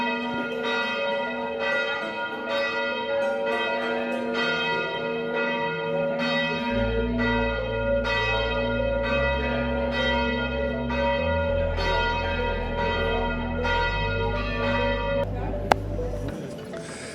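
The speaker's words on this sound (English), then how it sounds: "Luckily, I managed to get down before the bell started ringing." Church bells in Korčula, Croatia ring in a steady, repeated pattern with deep bell tones sounding underneath, continuing for many seconds at moderate volume.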